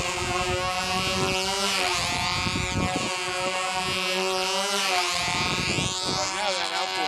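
An outboard motor runs steadily with a buzzing, droning hum and slight pitch shifts, voices talking over it.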